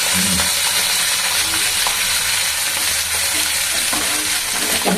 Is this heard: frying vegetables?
yes